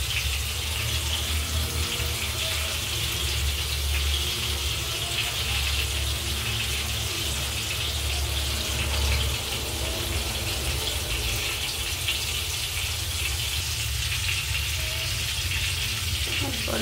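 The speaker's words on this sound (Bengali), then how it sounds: "সবার আগে আমি শুকনো লঙ্কা আর গোটা জিরে দিয়ে দেবো।" Dried red chillies and whole cumin seeds sizzle steadily in hot oil at the start of a bottle gourd curry, a continuous, even crackling hiss close by with no talking.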